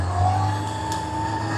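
A tuned Yamaha motorcycle with reworked carburetors, putting out roughly 110 horsepower, runs with a loud, close, steady engine drone and strong humming tones that hold fairly even throughout, with no voices over it.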